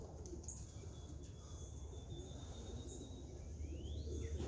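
Young pigeons coo softly in a loft in the early morning, faint and low under steady background noise, with a few distant chirps.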